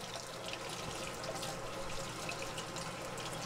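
Tap water runs steadily into a sink while leafy greens are rinsed, a soft continuous splashing hiss at low level with no talking.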